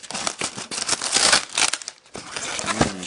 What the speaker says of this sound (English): It's all wrapped in this weird cellophane.